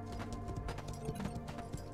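A cow ridden as a mount in the video game Life of Delta trots with quick, irregular hoof clops over low, steady background game sound.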